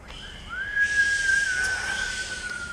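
A sustained high whistling tone that slides up, then holds and wavers with airy breathiness, like voices or instruments imitating wind.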